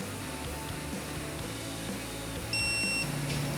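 A digital torque wrench gives a single clear electronic beep for about half a second over steady background noise, near and fairly bright.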